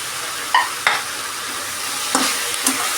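Tomato being sautéed with okra in a pan, a soft steady sizzle with a few light stirring scrapes and clinks, close and moderately quiet.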